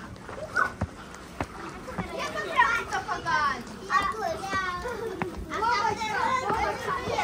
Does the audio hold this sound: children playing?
yes